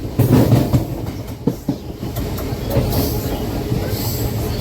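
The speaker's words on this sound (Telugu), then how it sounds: "గూడ్స్ ట్రైన్ వెళ్తుంది కొత్తదే" A new goods train runs past slowly on the Visakhapatnam–Vijayawada main line, its steady rumble and wheel clatter loud and continuous, with a few sharp knocks early on.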